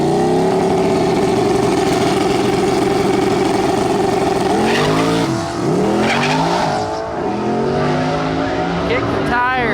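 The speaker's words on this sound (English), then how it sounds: "There we go. Nice clean burnout." Race car at a drag strip doing a burnout, its engine roaring loud and steady with tire squeal, then revving in sharp rising and falling sweeps; a voice talks over it.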